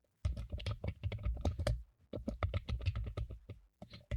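Rapid bursts of keystrokes on a computer keyboard, close and crisp, in two flurries separated by a short pause near the middle.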